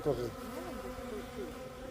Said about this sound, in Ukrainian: Тут можна спостерігати, як бджоли формують е, обніжжя